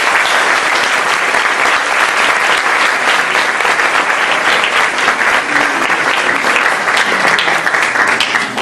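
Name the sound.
audience applause for Humberto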